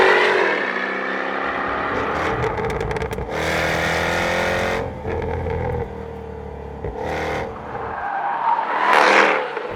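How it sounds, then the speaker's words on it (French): A Jaguar F-Type R V8 with active exhaust revs hard and loud, engine note rising and falling, with bursts of sharp crackle and pops between pulls, close by and without speech. "le V8 pétarade dans tous les sens avec l'échappement actif"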